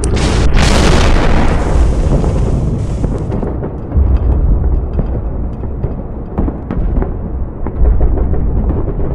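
An SU-122 tank gun firing in the Melon Playground video game, with a loud booming blast followed by a sustained rumble of explosions and scattered pops, dense and close, with no talking.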